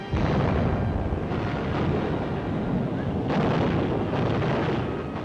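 Bombing explosions from the RAF pounding Rommel's supply lines in a WWII North Africa newsreel, a continuous rumbling barrage of dull booms, loud and muffled with old film noise.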